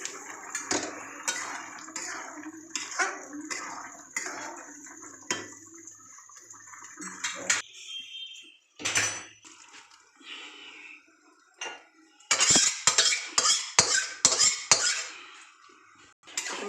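Boiled mung dal poured over fried cauliflower, carrot and other vegetables in a pan, with repeated scraping and clinking of a utensil against metal cookware and a wet splash partway through, close and without speech.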